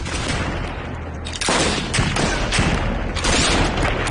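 Several heavy gunshot bursts crack out over a dense, rumbling battle din, loud and close, with a few distinct blasts spaced about a second apart.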